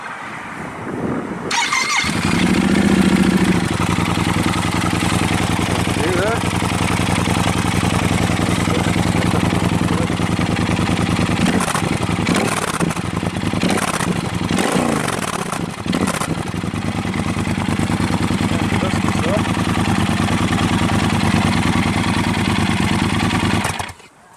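Yamaha XT1200Z Super Tenere motorcycle engine starting and then idling steadily with a deep, even thrum, close and loud throughout, with a brief blip of revs partway through and no talking.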